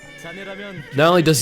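A horse mount in the online game Bless Global lets out a short, close whinny that rises into a loud, bright neigh at the end.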